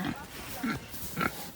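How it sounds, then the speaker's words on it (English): A big pig at a farm gives three short, low grunts spaced about half a second apart, close by and fairly quiet, with a person speaking softly around them. "He's a big old pig."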